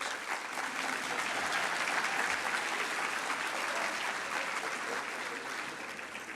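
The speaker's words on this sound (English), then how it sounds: "This is where you applaud." Sustained audience applause at a presidential address on small businesses and cooperatives, a broad even wash of clapping heard from a distance that holds for several seconds before easing slightly.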